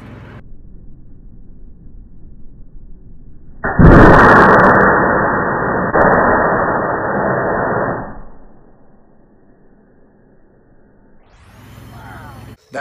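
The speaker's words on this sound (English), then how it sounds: "I finally get to do what I'm excited to do, the corn cannon." A corn cannon at a farm fall festival fires with a sudden loud blast that opens into a roaring broadband whoosh holding steady for about four seconds, then cuts off, leaving quiet outdoor background.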